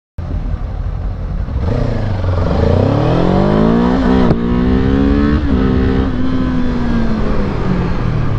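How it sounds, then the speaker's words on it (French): Engine of a hybrid vehicle, stated as a Ninja 7 hybrid, revving up loud and close, pitch climbing steadily through successive gears with brief shifts, then holding a high steady drone. "Je vais bien réussir à faire mon accélération quand même."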